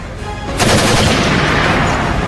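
Loud, dense video game gunfire erupts after a brief lead-in, a sustained burst of rapid shots with booming low end, continuing steadily to the end.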